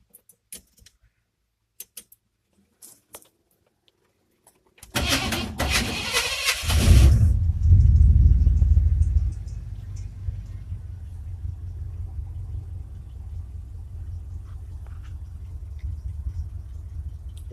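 After a few faint clicks and jingles, a pickup truck engine cranks with a loud burst, then settles into a steady low idle rumble that continues to the end.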